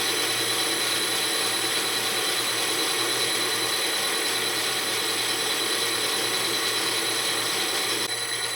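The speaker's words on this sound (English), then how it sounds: "we're going to drill, center drill, drill and then ream." A continuous machine whine and grinding hum of metal being drilled and reamed on a lathe for steam locomotive tender wheels, steady and loud throughout with no talking.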